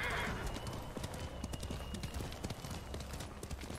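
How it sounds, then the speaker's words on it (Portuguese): A horse gallops in the samurai video game Ghost of Tsushima, its hooves hammering in a fast, steady clip-clop. A brief whinny comes near the start, and the pounding stays loud and close throughout. "vamos chamar o cavalo"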